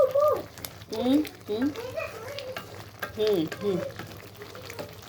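Tomato goes into a pan of prawns frying for a coconut curry, sizzling steadily while it is stirred; a voice talks over the frying throughout.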